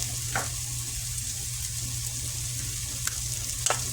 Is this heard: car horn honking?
no